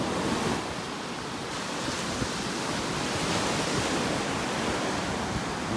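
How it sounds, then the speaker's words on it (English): Ocean waves break on the beach in North Naples, Florida, as a continuous, hissing wash of surf with a low rumble, steady and fairly loud throughout. "When these waves subside"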